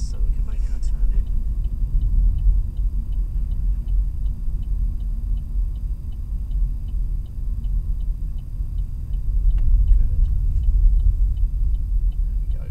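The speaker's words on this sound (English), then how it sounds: "to this black line across the road here, we'll indicate left." A car's turn indicator ticks steadily in an even rhythm under a constant low engine and road rumble, with a driving instructor talking over it as the car slows for a left turn.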